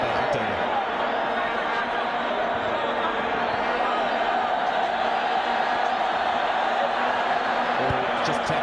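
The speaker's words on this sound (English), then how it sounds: "the crowd is really enjoying themselves here this afternoon" A football crowd at eGiyani Stadium during Dynamos FC versus Kaizer Chiefs, a dense, unbroken roar of many voices that holds at a constant level throughout, with no distinct peaks or lulls.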